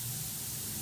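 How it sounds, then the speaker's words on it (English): A Harbor Freight touch-up paint gun sprays base coat in a steady, close hiss of atomized paint with no pauses and no voices. "So here we go, spraying a little base, and we got the Harbor Freight touch-up gun loaded up here."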